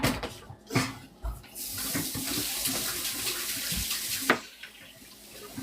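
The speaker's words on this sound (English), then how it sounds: "Excuse me while I go wash my fingers." Tap water runs into a sink in a home kitchen while fingers greasy with butter or margarine are washed, a steady close splashing stream with a few louder splashes and clunks.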